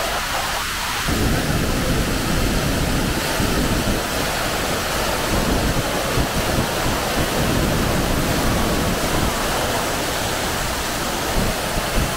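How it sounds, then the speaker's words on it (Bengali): A forest waterfall in Arunachal pours in a loud, unbroken roar, close and enveloping, with a brief quieter moment at the very start before the full rush takes over. "ঝর্ণাটা দেখো"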